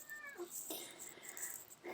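A house cat meows near a computer keyboard, a short, close, wavering call with a couple of pitch glides, heard under a quiet room tone with faint background noise.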